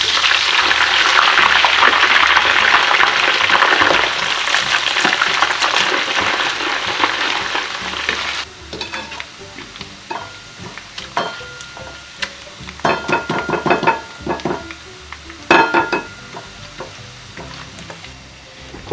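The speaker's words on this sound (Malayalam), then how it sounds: "ഇനി അല്പം കോക്കനട്ട് കൂടെ ഫ്രൈ ആക്കി എടുക്കാം." Grated coconut frying in oil in a pan for vegetable biryani, a loud steady sizzle for several seconds that fades into softer crackling and scraping stirs, close up with no voices.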